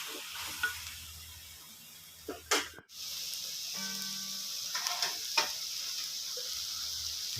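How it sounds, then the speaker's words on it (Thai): Fresh shrimp sizzle and fry in a wok for mala stir-fry, with a steady hiss broken by a few scraping stirs of a utensil, close and moderately loud with no talking. "จากนั้นก็ใส่กุ้งลงไปผัดนะครับ"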